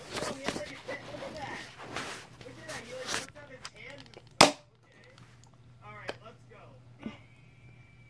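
Nerf modular darts fired at a bottle, sharp snapping pops and one loud crack as a dart strikes, with people talking throughout.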